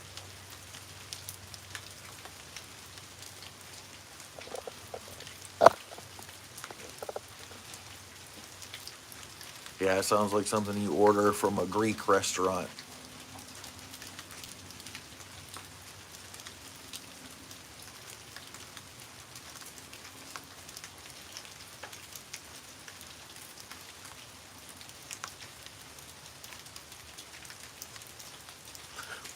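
Quiet, steady rainfall hisses and patters on a surface in the background the whole time, interrupted by one sharp tap and a brief stretch of someone speaking before the even drizzle continues.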